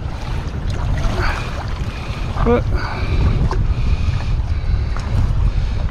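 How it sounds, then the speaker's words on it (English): Steady, loud wind buffets the microphone outdoors with a constant low roar, while a voice speaks briefly under it. "it is windy out here"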